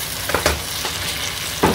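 Already-cooked shrimp tipped into a skillet of frying vegetables sizzle loudly and steadily, with a few sharp bursts as the pieces land and get stirred.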